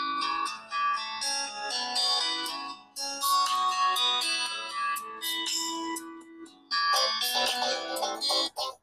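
A ringtone from an Infinix Hot 50i phone plays through its loudspeaker, a bright melodic tune with repeating phrases that runs continuously and fairly loud, briefly dipping near the middle before resuming.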